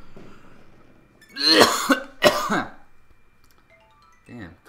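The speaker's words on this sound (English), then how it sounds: "coughing in a sore throat is not good" A person with a sore throat gives two loud, close coughs in a row, each a harsh rasping burst, then a fainter short throat sound near the end, in a quiet room.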